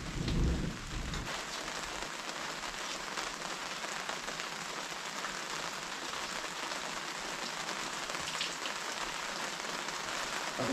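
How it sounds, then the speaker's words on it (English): Heavy rain pours steadily in a dense, even hiss throughout, with a low thunder rumble near the start. "We've still got thunder."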